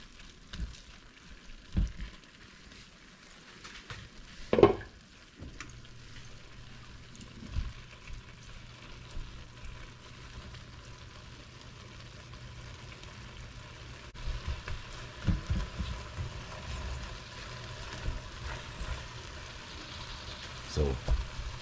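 Canned corned beef and vegetables fry in a pan with a faint, steady sizzle, broken by occasional soft knocks of a utensil against the pan.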